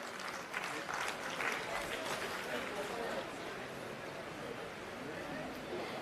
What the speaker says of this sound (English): A huge round of applause.